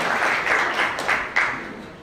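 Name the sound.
audience applause for children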